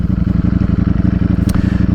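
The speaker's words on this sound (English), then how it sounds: "This is a really high-end motorcycle." A close Ducati Streetfighter V4 motorcycle engine accelerating with a rapid, rhythmic pulsing rumble, loud and steady, with a brief sharp click partway through.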